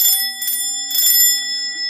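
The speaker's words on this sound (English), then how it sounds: "and it's a doorbell." An antique doorbell rings close by in three quick metallic bursts, each leaving a clear sustained bell tone that lingers and fades between strikes.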